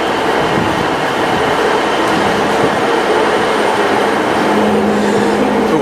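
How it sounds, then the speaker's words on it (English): Interior of a Class 150 diesel passenger train running between Conwy and North Llanrwst, a steady loud rumble of engine and wheels on rail with a faint squeal near the end, no talking. "So we're on this train to North"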